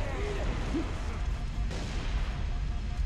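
A grenade explodes in the video game Halo: Reach, heard as a steady heavy rumbling blast wash with low booming weight and a faint voice underneath.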